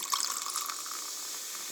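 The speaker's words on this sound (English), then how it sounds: "lemon lime fizzy water, and you pour it into this" Lemon lime fizzy water pours into a glass, a steady, close hissing splash with bright fizz that holds evenly for the whole moment, with no voices.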